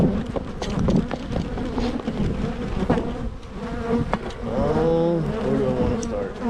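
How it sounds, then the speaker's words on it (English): Honeybees buzz inside an opened hive during a January inspection, a dense close droning hum with individual bees whining past, and some handling noises mixed in. "there's plenty of bees in here"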